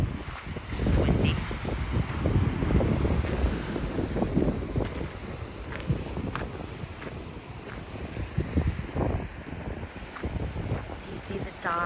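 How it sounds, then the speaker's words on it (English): Strong coastal wind on a chilly Northern California hike near the ocean buffets the microphone in low, rumbling gusts. The gusts swell and ease across the stretch and stay fairly close and loud the whole time. "It's windy."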